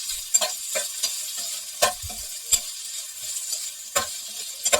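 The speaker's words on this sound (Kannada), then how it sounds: "ಟೊಮೆಟೊ ಹಾಕೊಂಡ್ಬಿಟ್ಟು ಅದನ್ನ ನೀಟಾಗಿ ಫ್ರೈ ಮಾಡ್ಕೊಳ್ಳೋಣ" Tomatoes frying in oil in a pan for masala poori, a soft continuous sizzle punctuated by sharp scrapes and taps of a spoon stirring every second or so, close and without voices.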